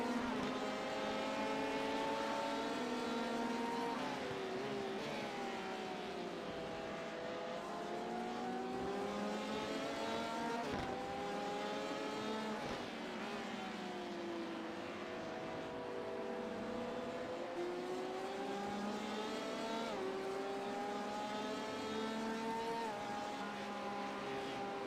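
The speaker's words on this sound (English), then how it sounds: "Okay, Phil, there's a master car approaching." Race car engines in the iRacing sim at Watkins Glen during a 24-hour endurance race, a loud, continuous drone of several engines rising and falling in pitch through upshifts and downshifts, with no break.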